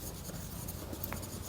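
A pen scratches on paper during a Class 10 physics lesson on light and refraction, a faint, close, continuous scribble with a slightly louder stroke at the very end.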